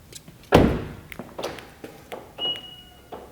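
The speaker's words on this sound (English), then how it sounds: "Let's see if it locks once I close this door." An Acura/Honda car door shuts with a loud close thunk, followed by several lighter clicks and thumps of the locks engaging and a short high electronic beep, with no talk.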